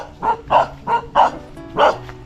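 Several dogs bark close by beside a roadside highway area among jackfruit trees, five loud, evenly spaced bow-wow barks over a low background hum, with no talking.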